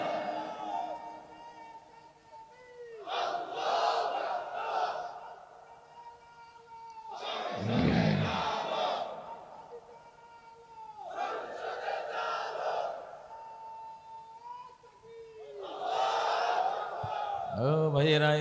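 A large crowd at a Bangladeshi religious sermon gathering chants back in loud, roaring bursts after each Naraye Takbir call, with a speaker's voice sounding between the responses.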